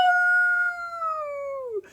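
A single long howl from a voice imitating a dog, a clear sustained tone that slowly falls in pitch over about two seconds before cutting off, close and alone.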